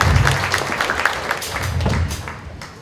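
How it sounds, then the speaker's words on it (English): Wedding guests break into a round of clapping, a dense, steady patter of many hands with some low thumps mixed in, lasting the whole stretch at moderate loudness. "So let's give a big round of applause."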